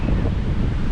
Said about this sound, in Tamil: காற்று சவுண்ட் வந்து உங்களுக்கு சின்னு கேட்கும்னு நினைக்கிறேன்.